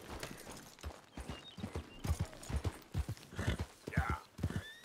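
Horse hooves clip-clopping in the open-world western video game Red Dead Redemption 2, a steady run of hoofbeats with a brief whinny near the end, heard under a person talking to the horse.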